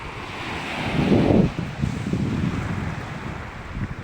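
Rough sea waves churning near shore houses, with a continuous loud wash of surf and wind noise on the microphone and a stronger surge of water partway through.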